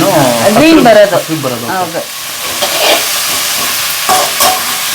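Mint leaves sizzle and fry in a pan for biryani, a steady crackling hiss that rises after a stretch of talking, with occasional stirring scrapes.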